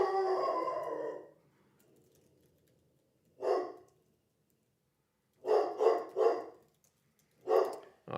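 A pet dog barks indoors at home: one long drawn-out howling bark, then after a pause a single yelp and a quick cluster of loud barks, ending with another sharp bark.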